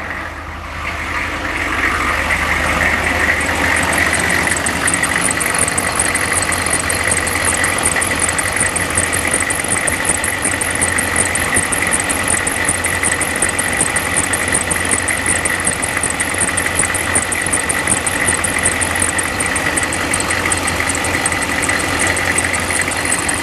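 A truck's engine, nicknamed Turbo Weasel, fires up and settles into a steady, loud idle with a constant rumble and a high whine that holds throughout.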